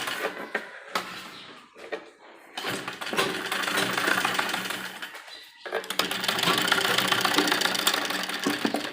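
A sewing machine runs in bursts, stitching elastic onto a palazzo waistband, its rapid mechanical hum starting and stopping with short pauses between stretches of steady stitching.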